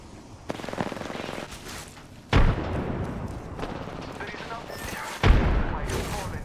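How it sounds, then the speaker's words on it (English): Automatic weapons rattle in Apex Legends combat, with rapid close bursts and two loud heavy impacts that cut in abruptly over continuous firing. "I'm taking fire. Being shot at."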